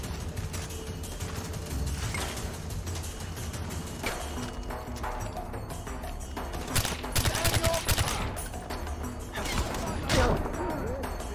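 Gunfire in the open-world shooter Far Cry 4, scattered shots and short bursts over a busy game soundscape with several louder cracks near the end, under some talk.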